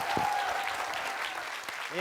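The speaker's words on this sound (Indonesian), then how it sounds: "Kita kasih tepuk tangan sekali lagi." A studio audience at a TV comedy show applauds with a steady burst of clapping, while a voice speaks briefly over it.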